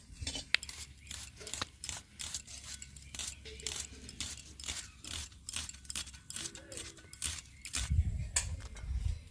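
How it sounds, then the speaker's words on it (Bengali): Knife chopping onions finely on a board for a village-style pointed gourd and prawn curry, a steady run of quick, fairly close taps with light clatter of utensils in between, no talk. "এবার পেঁয়াজগুলো কুচি করে নিচ্ছি"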